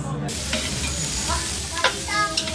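Shrimp halabos cooking in a pan, a steady close sizzle of frying with a few sharper crackles and stirring scrapes, no talking over it.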